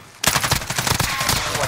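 Call of Duty gunfire, with an enemy's rapid automatic bursts starting abruptly and continuing loud and dense, with a voice speaking under the shots.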